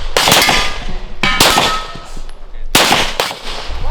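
Glock 17 pistol fired at a shooting range: three loud, sharp reports with ringing echoes, close by, spaced about a second apart.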